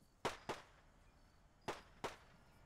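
Distant explosions in the military video game Arma 3 sound as four faint, sharp cracks in two quick pairs over a quiet background.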